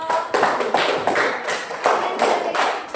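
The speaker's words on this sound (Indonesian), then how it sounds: "Beri tepuk tangan untuk kelompok." Classroom group clapping for students after a presentation, sounding as a few loose, uneven bursts of hand claps with short pauses between them, close and moderately loud, with no talking over it.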